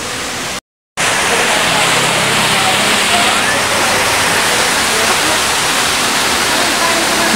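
Palsahingin Falls, a tall waterfall in Cavite, roars as a dense, steady wash of falling water, loud and close, broken only by a brief dropout near the start.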